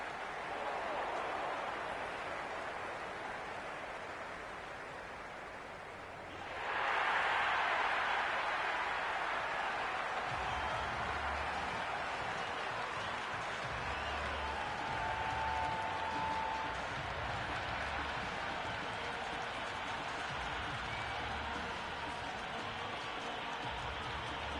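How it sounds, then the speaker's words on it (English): Video-game cricket crowd at a T20 warm-up match between Afghanistan and West Indies in Cricket 26, swelling suddenly into a loud, sustained roar of cheering and applause that holds steady at high volume for the rest of the stretch. "the crowd have joined the party. It's pretty noisy at the ground"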